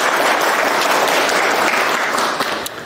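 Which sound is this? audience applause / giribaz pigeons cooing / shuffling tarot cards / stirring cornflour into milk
audience applause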